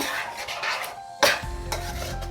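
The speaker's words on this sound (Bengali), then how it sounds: "এবার কুচিয়ে রাখা বিলেতি ধনে পাতাগুলো দিয়ে দেব মিশিয়ে নিয়ে" A spoon stirs chopped culantro into bottle gourd and prawn curry in a pan, scraping and clinking against the metal over a low simmering sizzle, with one sharper knock partway through.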